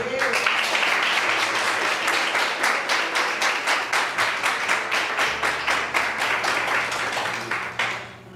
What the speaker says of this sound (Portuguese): eu queria que vocês dessem uma salva de palmas a Deus pela vida de Pedro